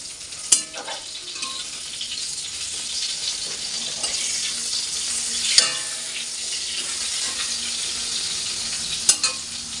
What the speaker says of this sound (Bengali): মা বললো আমাকে একটু ভাজাগুলো ভেজে হেল্প করে দিতে